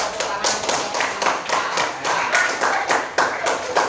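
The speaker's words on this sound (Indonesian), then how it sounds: "Ya, tepuk tangan benar. Tepuk tangan." A sixth-grade elementary class applauds during a science lesson on series and parallel electrical circuits, with dense, steady hand clapping that carries on for several seconds at close range.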